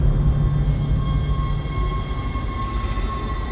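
A tram in the video game Dead Space rolls along with a steady, continuous rumble and a faint mechanical hum, with no talking.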